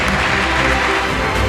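Dense, steady applause from an audience at a short film competition award ceremony, filling the whole moment at a loud, even level with no break.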